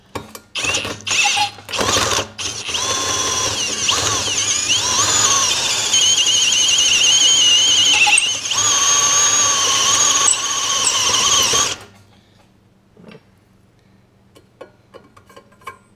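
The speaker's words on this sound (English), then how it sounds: "Now this is a very, very good, very expensive, very high quality step bit." A high-quality step bit cuts through steel, with a harsh metallic squeal after several short bursts, then a long continuous whining grind that stops suddenly, followed by quiet clicks and light handling.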